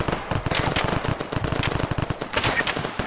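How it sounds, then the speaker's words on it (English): Sustained machine gun fire in the military shooter ARMA 3, rapid loud rhythmic bursts of shots rattling almost nonstop, close and without talk. "We got machine gun fire coming up from the southwest"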